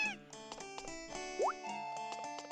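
A cat meows in the video game Story of Seasons against cheerful background game music, with a short rising plop-like sound effect in the middle.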